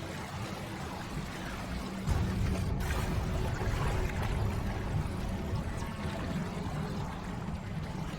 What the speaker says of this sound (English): Look, where the water's bubbling.